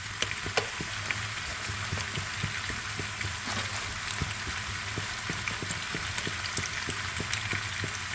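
Artichoke pieces sizzle and fry steadily in a hot pan, a dense continuous crackle with small pops, heard close and alone without talk.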